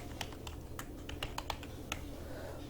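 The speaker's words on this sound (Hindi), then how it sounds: "यहाँ पर टाइप करते हैं बोया माइक" Irregular keystrokes on a computer keyboard while entering product details into an Excel inventory sheet, about a dozen quiet, close clicks at an uneven rhythm over a low steady hum.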